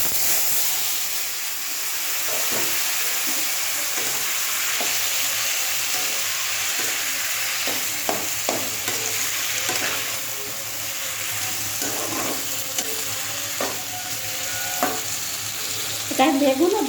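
Boiled vegetables fry in hot oil over tempering spices for a mustard chorchori, with an even sizzle and hiss broken by intermittent stirring clinks and scrapes, close by.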